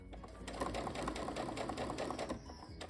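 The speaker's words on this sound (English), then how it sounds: "So we are just going to be sewing entire strip like this." A sewing machine runs steadily along a fabric strip set for a quilt, its needle chattering in a fast, even rhythm up close before slowing to a stop at the end.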